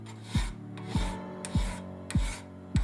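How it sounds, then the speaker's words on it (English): A file rasps along the edge of a handmade copper dagger blade in five steady strokes, each a short scraping pass with a brief gap between, close and clear with no voices. "To sharpen it, I simply filed the edges"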